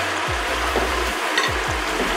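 Meat frying with onions in a pot for couscous, a close, steady sizzle broken by several soft scraping stirs of a spoon.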